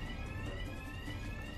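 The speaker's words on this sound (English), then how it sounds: "Good job, fire alarm." Fire alarm in a video game, a continuous, buzzing electronic tone ringing steadily and fairly loud with no break.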